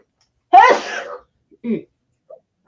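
A single loud sneeze up close, followed by a short quieter vocal sound and a faint tiny noise.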